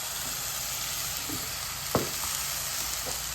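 Tomato and cashew gravy frying in a pan with onions for stuffed okra curry, a steady close sizzle with a few soft stirring clinks and scrapes.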